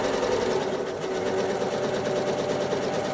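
Sewing machine stitching a heart design on a rail fence quilt, a steady rapid mechanical whir with fast even needle pulses, close and continuous.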